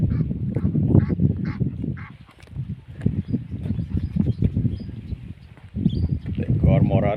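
A pair of Egyptian ducks paddling on water honk and quack repeatedly in loud bursts close by, mixed with a voice talking.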